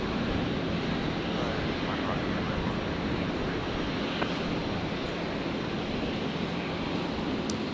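An airliner landing on runway 01 right at Brisbane Airport gives a steady, broad rushing roar that holds evenly throughout, with no voices.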